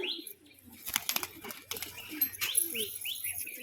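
Male fancy pigeons in a loft: several short wing flaps and rustles in quick succession, mixed with soft cooing and chirping calls at close range, with light background noise throughout.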